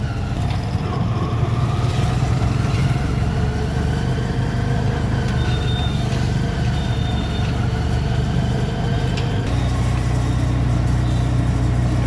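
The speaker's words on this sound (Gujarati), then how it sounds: "જોવો ભાઈ, રજામાં ફૂલ ટ્રાફિક છે." Busy Junction market street in Rajkot during the Diwali holidays, with a continuous rumble of idling and passing engines and motorcycles, loud and steady throughout.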